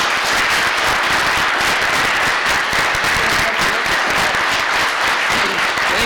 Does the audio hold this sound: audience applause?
yes